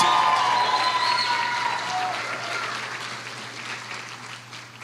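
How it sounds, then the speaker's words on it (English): Audience applause for a group of young women dancers at a Distinguished Young Women program, a steady loud wash of clapping that slowly fades over several seconds. "Let's give them one more round of applause."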